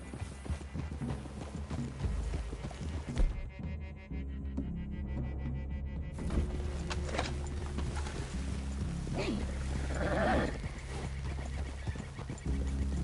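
Horses clip-clopping through a forest clearing in Red Dead Redemption 2, a steady run of hoofbeats with a brief neigh, moderately loud over low ambient rumble and no talk.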